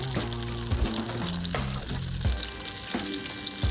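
Apple hand pies fry in a pan with a steady, loud sizzle of hot oil, broken by brief stirring and shifting noises as they are turned.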